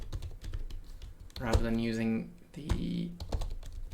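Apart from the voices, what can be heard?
typing on a computer keyboard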